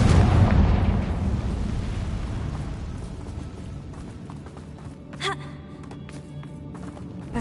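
A Confringo fire-blast spell in Hogwarts Legacy erupts as a heavy booming explosion at the start, then rumbles and fades over several seconds, followed by a small pop and quieter game ambience.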